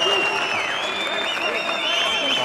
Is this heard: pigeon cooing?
no